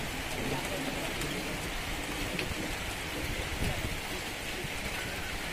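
Steady rain pours down at an elephant camp café in Chiang Mai, a continuous broadband hiss of drops on surfaces with no break, fairly close and even throughout.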